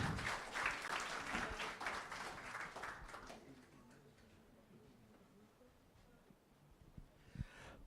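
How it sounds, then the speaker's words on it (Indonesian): Audience applause at a university certification institute and architecture studio inauguration ceremony, a steady burst of clapping for about three seconds that fades into quiet room tone with a faint stir near the end. "Mari kita berikan tepuk tangan yang meriah."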